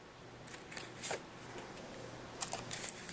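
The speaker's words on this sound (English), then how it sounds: "We're just going to cut them straight out." Scissors snip out small corner pieces from paper in a few quick, close cuts, with short crisp clips clustered near the start and again toward the end.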